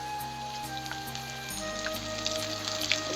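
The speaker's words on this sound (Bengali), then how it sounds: "আমার আদা জিরে বাটাটা ভালো করে ভাজা হয়ে গেছে" Ginger-cumin paste fries with browned potatoes in hot oil, giving a steady close sizzle with crackling pops throughout and a low hum underneath.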